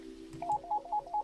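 A telephone rings inside the video game Grey Plague, giving four short, evenly spaced electronic trills over a steady background tone. No one speaks.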